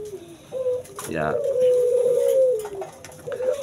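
Spotted doves and zebra doves kept on a dove farm in the rainy season give a drawn-out, steady cooing note over a soft background, with a brief spoken word.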